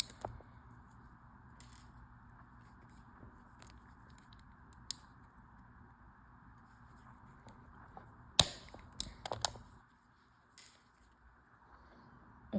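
Cutters trimming thick copper wire on the arms of a large handmade ankh, a few sharp snips and clicks over a steady background hum, with quieter handling in between.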